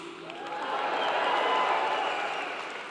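A large audience at a Clemson University Fall 2024 graduation ceremony gives a sustained round of applause, a dense wash of clapping that builds, holds, then eases slightly toward the end.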